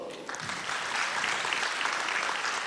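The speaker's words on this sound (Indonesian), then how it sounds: "Dan tentunya kita beri juga tepuk tangan yang meriah untuk para delegasi G20" Audience at the Grand Launching of the National Digital Talent Program applauds the G20 delegates, a dense, steady wash of clapping from a large crowd that holds at full strength throughout, with no voices over it.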